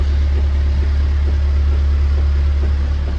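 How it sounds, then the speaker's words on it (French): A boat engine's steady low drone runs unbroken throughout, with a faint regular thumping pulse in the hum and no voices. "Donc on a mis le moteur."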